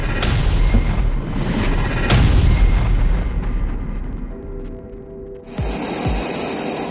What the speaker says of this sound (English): Tehran launched its first confirmed barrage of Fatah-1 hypersonic missiles, with Supreme Leader Ayatollah Ali Khamenei